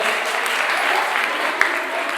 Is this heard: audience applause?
yes